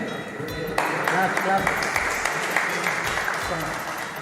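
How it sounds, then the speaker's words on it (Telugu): Audience applause at a reunion gathering, a dense steady wash of clapping starting abruptly and continuing throughout, fairly loud and close, with voices underneath. "క్లాప్స్ కొట్టండి."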